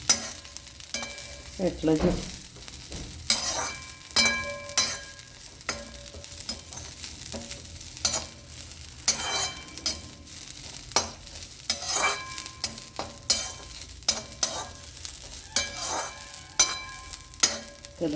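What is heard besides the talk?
mint powder ingredients dry-roasting in a pan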